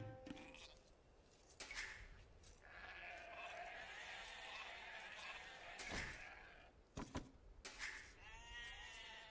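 Sheep bleat faintly in the video game Age of Empires II, several short calls scattered over a quiet game soundscape with a few soft clicks and thumps.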